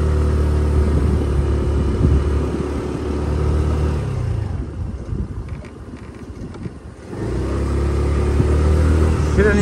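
A Kanuni Resa 125 motorcycle riding up a gentle hill, a steady engine drone with wind rush that dips and thins midway, then swells back to a loud close roar as it pulls again.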